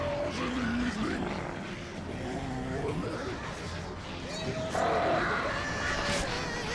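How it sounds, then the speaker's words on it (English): Crows caw in the Alan Wake video game, a few harsh calls set among game ambience and other background noise, with talk mixed in over parts of the scene. "Oh, he has the crows too."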